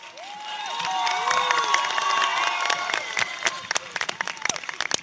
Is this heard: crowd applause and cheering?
yes